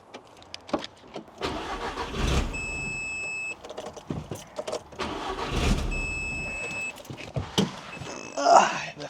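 A 1.8T four-cylinder track car with a fresh SPA intake manifold cranks and fires up outside a garage, its engine starting and then settling into a rough idle, with a few beeps and people talking nearby.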